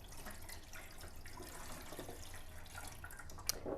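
Unfiltered water poured into the bottom section of an RKIN countertop water filter, a steady low splashing wash running throughout at moderate level, with a brief sharper clink near the end.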